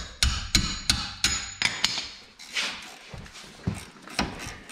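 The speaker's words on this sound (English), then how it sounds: "How about we hit it instead with a real hammer?" Sharp metallic hammer strikes on a Ford Fusion car part, about a dozen in an uneven rhythm, close and loud, with brief pauses between blows.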